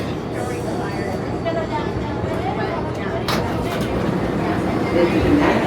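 A New York City 7 local subway train runs between stations with a continuous heavy rumble and rattle from inside the car that swells a little louder toward the end.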